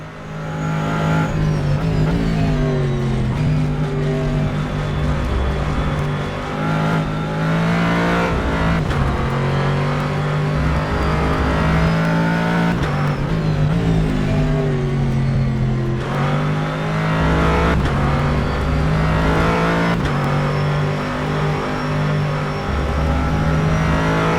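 Race cars in the video game rFactor 2 at Spa, a loud sustained engine drone with rising and falling revs through gear changes, several cars running close together with no talk.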